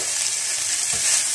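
Noodle filling with masala sizzles in a hot pan, a close, loud, continuous frying hiss with a soft stirring scrape partway through.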